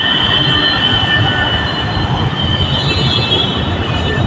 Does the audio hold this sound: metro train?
yes